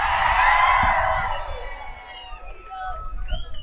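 A big crowd at a Latur campaign rally roars with applause and cheers for Riteish Deshmukh, a loud dense burst that fades after about a second and a half into quieter murmuring and a voice.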